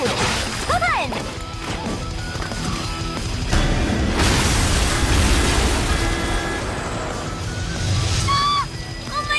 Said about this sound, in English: We need to hit him and run away before they explode!